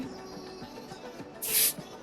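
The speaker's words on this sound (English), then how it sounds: "We use spray." A short, bright hiss of hairspray sprays onto a wig once, close by, after a stretch of low background clatter.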